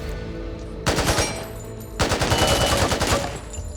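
An AK rifle in Back 4 Blood fires two loud, rapid automatic bursts, each about a second long, close up and clean, with a short pause between them.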